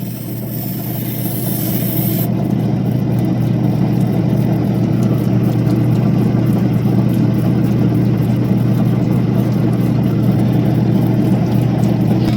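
A lapidary wheel spins while an opal is cleaned. It gives a loud, steady motorized hum with a constant low drone, and a brief hiss at the start drops away.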